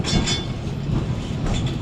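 A Christchurch heritage tram runs along the Heritage Line, giving a loud, close, steady rumble with clickety-clack of wheels over rail joints and a faint hint of wheel squeal.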